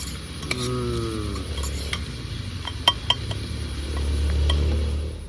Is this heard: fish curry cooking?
yes